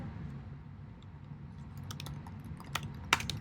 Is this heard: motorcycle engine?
no